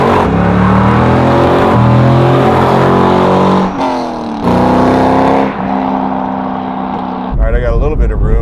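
Track-ready 2004 C5 Corvette Z06 with a 425-horsepower engine accelerating hard on the road, heard loud from inside the cabin as the engine note climbs and shifts through gears.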